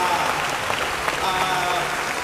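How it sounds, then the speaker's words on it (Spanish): Audience applause at the opening ceremony of a Special Olympics event, honoring the athletes' parents; steady, dense clapping fills the whole stretch at a moderate level, with no talking over it. "pidió un fuerte aplauso para los papás de los deportistas por impulsar a sus hijos"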